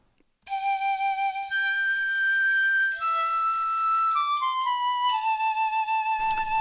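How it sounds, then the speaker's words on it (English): A free Big Cat piccolo flute software plugin plays a MIDI melody in REAPER, clear high sustained notes stepping downward in a slow line, loud and alone with no talk. "And this time I'll select again from Big Cat a Piccolo Flute."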